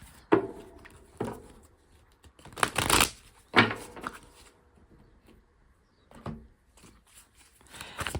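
Tarot cards are shuffled and drawn up close in short, separate bursts of riffling and papery slaps, with quiet pauses between them and no talking.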